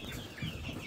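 Young chickens peep and cluck softly nearby, a faint brief flutter of chick calls with no talking.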